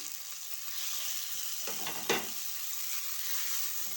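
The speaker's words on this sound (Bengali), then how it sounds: "এটাও ভালো করে নেড়ে ছেড়ে নিয়ে একটু রান্না করে নেব" Chopped tomato and yardlong beans stir-fry for a soup, giving a steady soft sizzle broken by one brief scrape of a spatula midway, with no voices.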